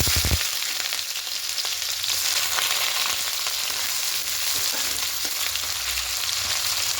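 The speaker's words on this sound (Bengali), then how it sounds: "এবার এখানে পেঁয়াজ কুচি দিয়ে দেব।" Chopped onion hits hot oil tempered with nigella seeds and sizzles in a continuous, close, fairly loud hiss that holds steady for several seconds with no one talking.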